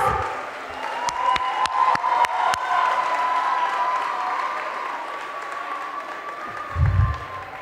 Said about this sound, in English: Can I get one big round of applause?